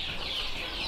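KUB chickens clucking, a soft, close flutter of high bird calls over a brief second with no talk.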